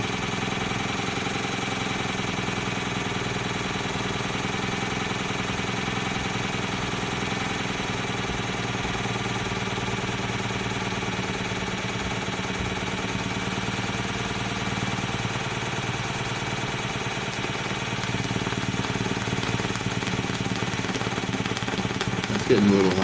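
A Stuart Sirius twin steam engine running steadily on a bench, a continuous dense mechanical hum and rapid vibrating rattle with no pauses, growing a little louder near the end.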